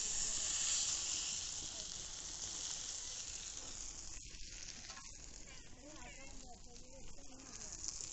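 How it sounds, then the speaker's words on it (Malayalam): Redbelly fish frying in hot oil on a tawa, Kerala style: a steady, close hiss and sizzle that keeps going the whole time, with faint crackles and small pops over it. "ഇനി നമുക്ക് മീൻ അതിലേക്ക് വെച്ച് കൊടുക്കാം"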